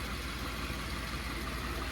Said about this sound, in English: listen to that engine purr